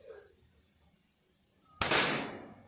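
A single air rifle shot fired with Hercules pellets: a sharp, loud crack bursts out of near silence and then fades quickly, with no talking.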